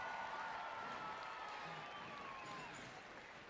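A rodeo crowd in Sydney applauds a bucking horse rider from Injune, Queensland, a broad, steady wash of clapping and cheering heard from a distance that eases slightly toward the end.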